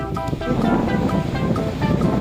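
Sea waves at Khung Wiman beach roll and wash ashore in repeated surges, with wind noise buffeting the microphone and no talking.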